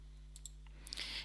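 A few faint, sharp computer mouse clicks while text is pasted into Notepad, scattered over a quiet, low background hum with no talking.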